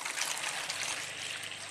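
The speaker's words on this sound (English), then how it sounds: "Pour in your bleach solution." Bleach solution pours steadily into a roughly one-gallon container, a continuous close splashing rush of liquid that holds at an even level throughout.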